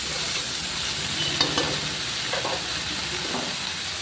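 Fish with turmeric and salt fries in a pan, giving a close, constant sizzle broken by soft scraping as it is stirred and turned.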